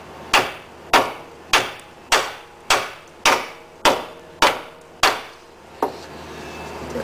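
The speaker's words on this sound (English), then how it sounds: "Take your hammer, BFH as I like to call it," Nine sharp metallic hammer blows at a steady rhythm, hammering out a ball joint on a third-generation Ford Escort, each ringing briefly before the next, close by with no talking.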